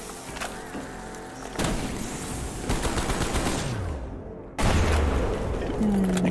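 Dense automatic gunfire from the Call of the Dead zombies game, a loud continuous rattle of shots layered with booms and game effects, close and intense throughout with faint player voices beneath.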